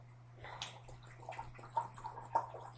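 Water pours from a bottle into a container in a quiet room, giving soft irregular gurgles and splashes that grow a little louder toward the end, over a low steady hum.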